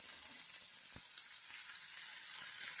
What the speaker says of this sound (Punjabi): ਲਸਣ ਪਿਆਜ਼ ਅਦਰਕ ਆਪਾਂ ਪਾਤਾ ਹੈ